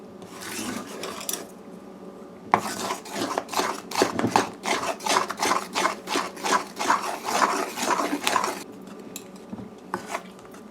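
A spoon scrapes and turns thick pera dough in a pot off the stove, steady rhythmic rasping strokes repeating close up for several seconds, with quieter pauses at the start and end.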